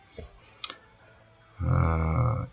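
Two soft, separate clicks from computer keyboard keys pressed to switch presentation slides, followed by a loud, sustained tonal hum.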